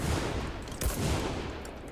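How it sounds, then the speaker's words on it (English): A Maxim machine gun fires in the WWII shooter Enlisted: a short, dense burst of gunfire over a noisy battlefield bed, with one stronger shot near the middle. "It's a Maxim again."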